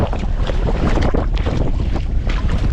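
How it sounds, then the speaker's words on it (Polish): Strong wind roars and buffets the microphone continuously on open water while kayaking on Nynäsviken near Nynäshamn, Sweden, a rushing, broadband sound. "wieje mocno"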